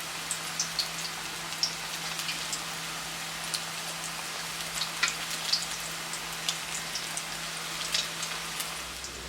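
Small keema pakoras deep-frying in hot oil give a steady, fine crackling sizzle with scattered sharper pops, fairly quiet and continuous throughout, with no talking.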